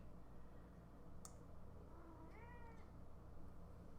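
Kitten giving a single short, faint meow over a low background hum, preceded by a brief click.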